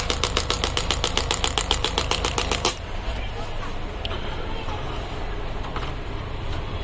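A Biotronix pneumatic shockwave therapy machine firing in a rapid, steady train of sharp pulses, loud and close, which then stops and leaves a low hum with a few faint clicks.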